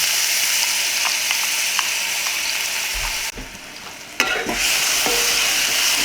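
Cumin crackles steadily in hot oil, then the sizzle briefly drops away as ginger garlic paste goes in before flaring back up with a sharp burst, joined by a few light scrapes, close by and without any talking.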